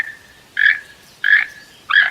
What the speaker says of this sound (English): T is for toucan.